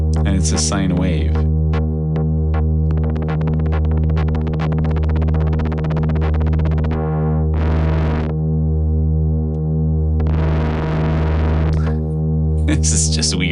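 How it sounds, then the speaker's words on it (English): An Oberheim OB-1 synthesizer plugin plays a buzzy, harmonic-rich tone that drones steadily while an LFO makes its texture pulse and flutter, speeding up and slowing down, with brief gaps and bright bursts. "It's a sine wave"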